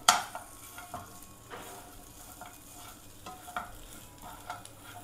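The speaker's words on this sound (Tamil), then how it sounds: "இதில் மல்லித்தலை போட்டுக்கலாம். போட்டு அப்படி மிக்ஸ் பண்ணி விட்டுக்கோங்க." A ladle stirs mutton bone soup with kolukattai dumplings and coriander leaves in a pot, giving scattered scraping knocks and soft sloshing at close range over a low simmer, alone without talk.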